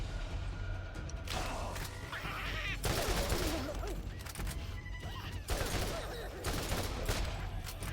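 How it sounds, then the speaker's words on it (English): Dense gunfire from the video game Borderlands, with overlapping shots and bursts from several directions filling the whole stretch, loud and continuous, with mechanical clatter mixed in. "Oh my god, I'm getting shot from everywhere."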